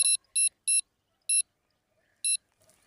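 An electronic fishing bite alarm at a pond chirps in short, high-pitched beeps, three in quick succession, then two more spaced out, against near silence.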